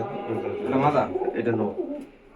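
An Andhra pigeon cooing close by during a bird sale, a low throaty coo rising and falling across the clip while people talk nearby.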